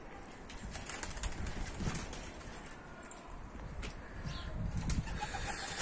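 Turkish pigeons leave their coop and take off, wings flapping and clattering in bursts against faint cooing and background ambience, with no voices.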